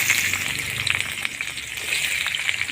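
Onions sizzle and fry steadily in hot oil in a pan for goat meat curry, a continuous close crackling hiss with no talking.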